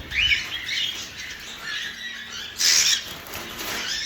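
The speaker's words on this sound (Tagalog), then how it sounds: "meron na naman mga inakay ko eh" Young chicks chirping up close, with bursts of high, thin peeps that rise, fade and return over a few seconds against a light hiss.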